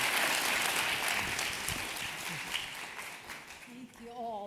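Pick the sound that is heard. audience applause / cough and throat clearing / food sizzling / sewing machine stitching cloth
audience applause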